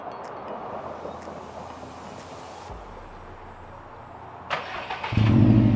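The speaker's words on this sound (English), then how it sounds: "Here, I'm gonna give you a cold start." A starter cranks briefly, then a Subaru WRX STI engine with its muffler deleted catches on a cold start and roars to a loud, rumbling idle near the end, following quiet background noise.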